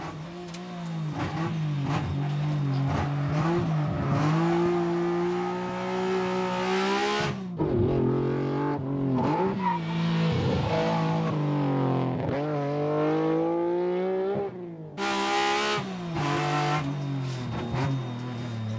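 A race car engine roars and revs continuously, pitch climbing and dropping through gear changes, with brief lulls as the throttle lifts.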